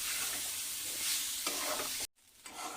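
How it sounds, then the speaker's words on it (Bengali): Carrot upma stirred in a pan, a close, steady scraping sizzle that breaks off for a moment of near silence before quieter stirring resumes. "এবারে আস্তে আস্তে করে কিছুক্ষণ ধরে নাড়তে হবে এটাকে"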